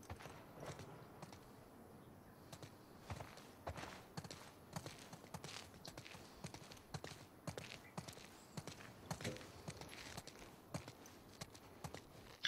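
Horses walking in the video game The Last of Us Part II, their hooves clip-clopping in a steady, uneven rhythm over ambient background noise, with no talk.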